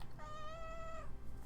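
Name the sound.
cat's little meow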